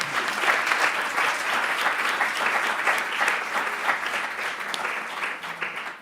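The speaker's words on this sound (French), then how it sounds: "On peut toutefois l'applaudir quand même." Steady audience applause at a French diplomacy colloquium, a dense sustained patter of many hands clapping at constant loudness with no speech over it.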